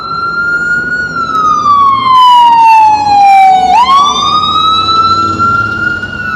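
A loud wailing ambulance siren sweeps close by on the Bowery in New York City, its pitch dropping as it passes and then rising again, over a rumble of street traffic.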